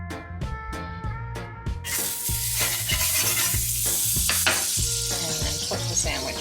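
A Cuban sandwich drops into melted butter in a pan, a few clinks and taps giving way to a steady close sizzle and frying hiss with occasional scraping knocks.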